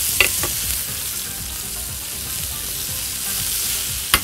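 Shrimp fry in a pan for Italian-style grilled shrimp, giving a steady close sizzle with a few light clicks of a utensil at the start and end.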